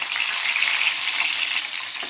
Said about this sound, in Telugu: ఇప్పుడు ఈ కారం పెట్టుకున్న వంకాయల్ని ఒక్కొక్కటి ఒక్కొక్కటి ఇలా నూనెలో పెట్టుకోవాలి